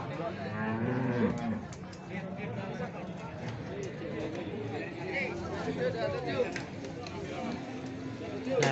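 Simmental cattle low and moo amid a busy livestock market barn, with people chattering nearby throughout.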